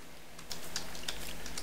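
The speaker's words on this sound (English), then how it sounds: "I'm going to type in my message" Quick keystrokes tapped on a computer keyboard while writing a short message, a brisk run of light clicks close by with no talking.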